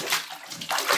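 Clothes are agitated by hand in a water-filled bathtub, a brief close run of sloshing and swishing water in two quick surges.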